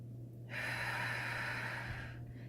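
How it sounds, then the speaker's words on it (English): A slow, deep belly breath drawn in and let out in one long, audible exhale, close to the listener with no talking. "think of blowing up that balloon inside your belly and releasing that air when you're breathing out"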